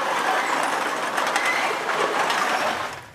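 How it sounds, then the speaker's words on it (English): Automated container-sorting equipment at a North Edmonton bottle depot separating aluminum, metal and plastic beverage containers runs as a steady, loud mechanical rattle and clatter. The noise holds constant and fades toward the end, with no talking. "There is a new automated sorting equipment that is now in place at a North Edmonton bottle depot."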